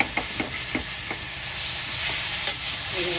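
Cowpea vegetable with plenty of small homegrown garlic is stir-fried in a pan, a steady sizzle under several quick scraping stirs and light knocks of the spatula.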